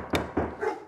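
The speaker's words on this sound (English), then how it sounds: "Doesn't that dog ever stop barking?" A dog barks twice in quick succession, close and loud, followed by a short whining yelp, heard alone without talk.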